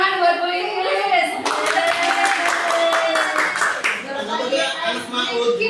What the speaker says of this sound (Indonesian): Tepuk tangan buat WIS.